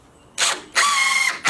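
A screw is driven into a countersunk deck board by a power driver in two short whirring bursts, the second longer and steadier, close and loud with no talking.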